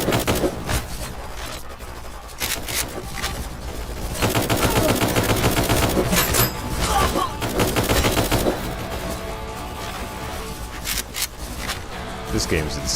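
Gunfire from a shooter video game crackles in rapid automatic bursts and scattered single shots. It swells into dense, loud volleys in the middle, then thins out toward the end.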